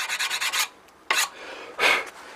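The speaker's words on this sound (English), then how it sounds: "a little bit of sanding on the edge like that." A sanding block rasps along the edge of a square wooden bowl, first in a quick run of short strokes, then in two longer, separate passes. The sound is close and fairly quiet.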